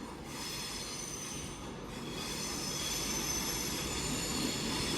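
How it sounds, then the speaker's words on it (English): A Class 390 electric train pulls out of London Euston with loud, sustained wheel squeal and rumbling rail noise that stays steady and close throughout, no voices present. "390-013 is back, departing down there."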